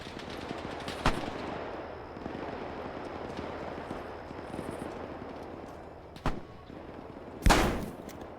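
Bolt-action rifle gunfire in the Arma 3 video game, German Iron Front battle: a few sharp shots at scattered intervals, the last loudest and closest, over a steady battlefield rumble.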